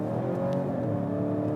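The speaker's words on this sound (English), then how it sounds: "you do hear some pretty interesting exhaust sounds. Like it farts, it has a nice bassy sound to it" A 2022 Volvo V90 B6 AWD Cross Country pulls hard under acceleration, its engine and exhaust holding a steady, bassy drone with tonal whine, close and continuous.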